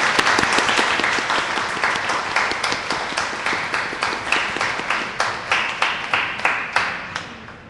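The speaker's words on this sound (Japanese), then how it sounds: "拍手 ありがとうございました。" Studio audience applause at a public live radio broadcast, first a dense burst of many hands, then settling into steady rhythmic clapping that fades toward the end, with no talking.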